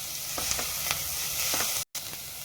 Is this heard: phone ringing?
no